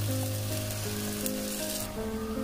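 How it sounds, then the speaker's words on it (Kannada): Ground masala fries with tomato and onion in a pan, a close, steady sizzle with a faint stirring scrape, continuous for a couple of seconds, no voices. "ಈಗ ಇದಕ್ಕೆ ನಾವು ಗ್ರೈಂಡ್ ಮಾಡ್ಕೊಂಡಿರುವಂತಹ ಮಸಾಲವನ್ನ ಹಾಕೊಳ್ತಾ ಇದ್ದೀನಿ"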